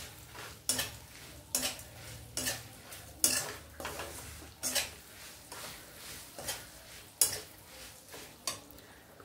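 Karonda chutney frying over a low flame in a pan, with a soft sizzle under about a dozen sharp, regular scrapes of a spoon stirring against the metal, close and fairly quiet.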